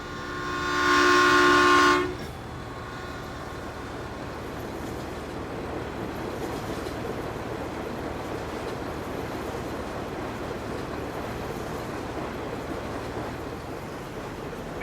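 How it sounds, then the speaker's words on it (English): A short train with a single engine passes in a farming video game, opening with a loud two-second horn blast followed by a steady rumbling roll of wheels on track. "Oh, here comes a shorter train."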